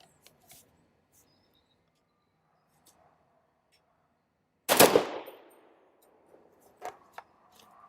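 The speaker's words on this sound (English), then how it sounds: "Let's try a 2-round burst." A British EM-2 bullpup rifle fires a short two-round burst outdoors, a loud sharp crack with a quick double report and brief echo, followed by faint metallic clinks and handling noises, with no talking.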